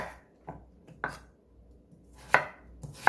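A knife slices radish into thick pieces on a cutting board, giving half a dozen irregular, close chopping thuds of varying loudness, with the strongest strikes near the end and no talk.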